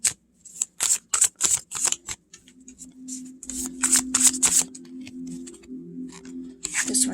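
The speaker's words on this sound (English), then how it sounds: "this is the only way I can shuffle this deck" An unusually tall Legend of Sleepy Hollow tarot deck is shuffled by hand, with a quick run of crisp riffling flicks followed by softer, looser card shuffling, close and clear with no voices.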